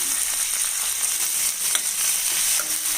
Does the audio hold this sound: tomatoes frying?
yes